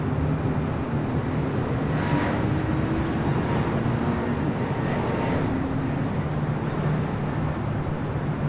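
Air France airliner taking off from LAX's north side, heard as a steady, distant broadband jet roar with a faint whine, continuous and moderately loud throughout.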